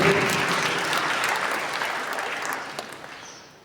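A church congregation breaks into dense, steady applause that slowly fades out over a few seconds, with a few scattered claps near the end.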